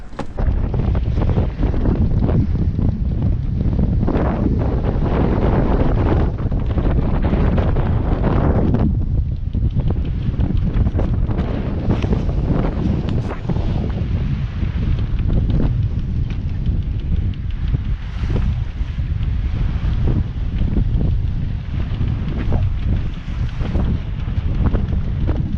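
Strong wind buffets and roars across the microphone nonstop on a sailboat at sea in a beam wind, with gusting rushes and faint water and boat noise beneath.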